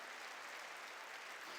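A church congregation clapping together during a sermon, a dense, even wash of many hands applauding, heard somewhat distant and soft, steady throughout.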